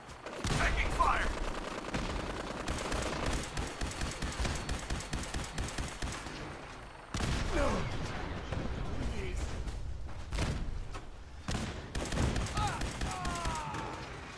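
Repeated gunfire from the video game Fallout 4, rapid bursts of shots in rhythmic runs with heavy impacts and breaks between volleys, loud and close, with voices talking over parts of it.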